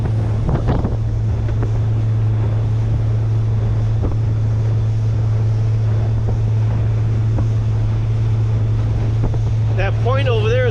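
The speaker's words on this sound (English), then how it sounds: "And you see these waves we're hitting? We are actually within the break wall still," A small fishing boat runs through choppy waves inside a break wall before a change in weather, with a loud steady engine drone and heavy wind buffeting throughout and irregular slaps and thumps of hull on water.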